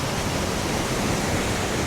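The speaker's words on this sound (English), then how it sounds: "But there is some water coming down there." Water falling down a drop in Scotland, heard as a steady, dense rushing hiss with no breaks.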